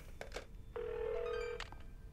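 An old-fashioned telephone in the video game Gregory Horror Show gives a single sustained electronic ring tone lasting almost a second, framed by a few brief clicks before and after.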